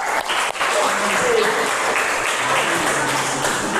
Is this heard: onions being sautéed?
no